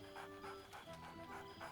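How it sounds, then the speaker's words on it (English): Scratch, the dog companion from Baldur's Gate III, pants in quick, rhythmic breaths with a soft bark mixed in, close and quiet over a low game ambience. "Scratch barks merrily in something like agreement."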